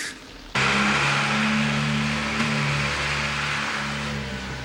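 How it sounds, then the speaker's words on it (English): A lorry engine starts up abruptly and drives off, a steady loud mid-pitched drone with harmonic hum that holds and slowly recedes, heard alone with no talk. "That sounds like my lorry."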